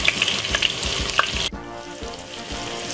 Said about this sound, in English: stir it like this and leave it for it to fry, because I want it to fry right to get a little bit more heat